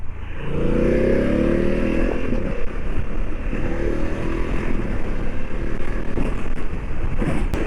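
A 2024 BMW F900 GS Adventure motorcycle accelerating on the road, the engine note climbing and dropping as the quick shifter snaps through gears, with steady loud wind and engine roar throughout.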